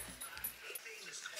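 A dog whimpers and yips softly in short bursts, faint and close, with a person talking over it.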